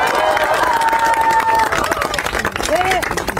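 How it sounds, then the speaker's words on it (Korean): Outdoor crowd at a rainy Rebuilding Korea Party event with a politician applauding and cheering in a loud, dense clatter, with voices calling out over it. "박수 드립시다"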